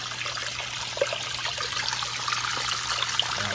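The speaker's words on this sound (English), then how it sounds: "The water flow is going to be at its maximum." A new Fluval 307 aquarium canister filter runs at maximum flow, its water trickling and splashing steadily into the tank over a low motor hum, close and continuous with no talking.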